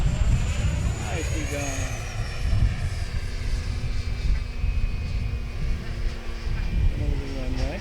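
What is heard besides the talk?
RC model jet FlyFans J-20B flying with power added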